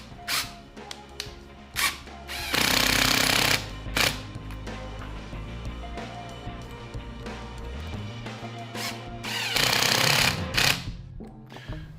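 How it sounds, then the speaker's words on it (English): An impact driver sets 1 1/4-inch screws into a heavy wet block of Black Acacia, giving loud rattling hammering bursts with a motor whine between them, close and alone. "Next I'll use my impact driver to set these screws,"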